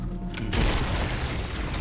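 An explosion in the video game Halo: Combat Evolved sets off a sudden loud boom about half a second in. It is followed by a dense, rumbling roar and debris noise that holds steady to the end. No voices are heard.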